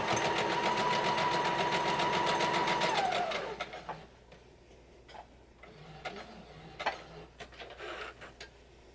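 Sewing machine stitching fabric while piecing a Jacob's Ladder quilt block, a fast steady hum of clattering needle strokes for about three seconds that then stops, leaving quiet handling noises and soft clicks.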